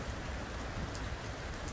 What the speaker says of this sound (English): It's a much needed rain, that's for sure. Real good rain.